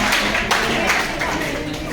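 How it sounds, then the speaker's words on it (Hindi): Students in a government school classroom clap for a classmate during a lecture: a dense, steady patter of hands that fills the whole stretch at moderate loudness, with faint voices mixed underneath. "इनके लिए तालियां बजाइए प्लीज"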